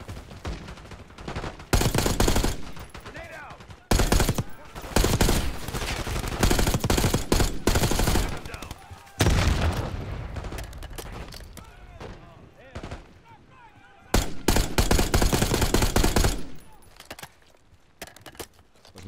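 Dense video-game gunfire from Black Ops 6 as cover fire is laid down, with sustained automatic bursts and heavy fusillades broken by short pauses, loud and close, mixed with shouted voices.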